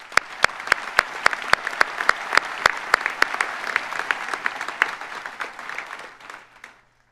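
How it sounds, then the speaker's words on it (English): At a college convocation ceremony, a crowd applauds while one person close by claps sharply in a regular beat over the broader wash of hands, the sound fading out toward the end. "Let's give him an applause for that."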